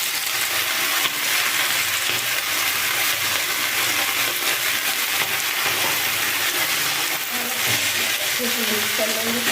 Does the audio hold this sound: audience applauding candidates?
no